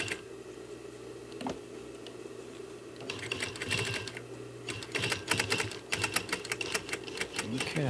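Sewing machine stitching and back-stitching a seat cushion cover during sofa reupholstery, a quiet hum at first, then rapid clattering runs of needle strikes that come and go in short busy bursts.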